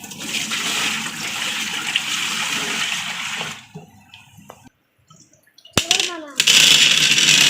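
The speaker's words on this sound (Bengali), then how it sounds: "চলো জলটা ঢেলে দেখ।" Water gushes and splashes loudly into an aquarium for several seconds, then drops away to faint trickles and drips before a final loud rush of pouring water returns; a voice is briefly heard.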